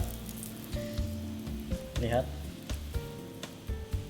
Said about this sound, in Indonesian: Di sini kita punya minyak goreng yang panas.